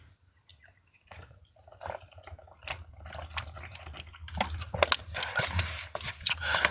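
Gulping and sipping of water close by, with soft wet mouth sounds and small clicks growing busier toward the end, no talking.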